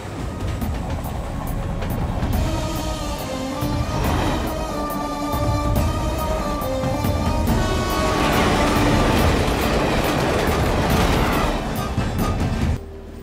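A local commuter train runs on the rails with a loud, sustained rumble and rhythmic clacking over about thirteen seconds, cutting off abruptly at the end, with no speech over it.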